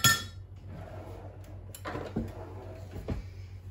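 Whisk clinking and scraping in a bowl as melted chocolate is mixed with double cream and icing sugar, irregular metallic taps and clinks at close range, a sharp knock at the start, no talk.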